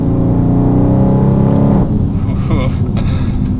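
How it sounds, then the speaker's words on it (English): A 2019 Dodge Charger R/T Scat Pack V8 accelerates up close, giving a loud, deep engine roar that rises with revs, drops at a gear change and carries on more raggedly, with talk mixed in. "I love that V8 rumble"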